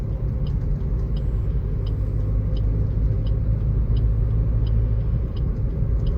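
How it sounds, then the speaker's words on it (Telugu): Heavy road traffic makes a constant, loud, low rumble of many engines and tyres that never lets up, with faint ticking in the background and no one speaking. "చూడండి మీరు కూడా ఒకసారి ఎంత ట్రాఫిక్ ఉందో"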